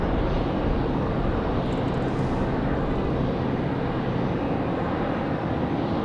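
An Air France Boeing 787 Dreamliner airliner on final approach at Raleigh-Durham International on a windy day gives a steady, loud broadband jet roar with wind noise, continuous throughout with no talking.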